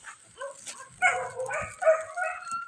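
Dogs yip and whimper close by in short, overlapping bursts at a beach resort, with a few higher whines between louder barks, no speech.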